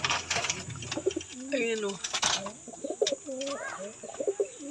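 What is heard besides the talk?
pigeons cooing, hen breeders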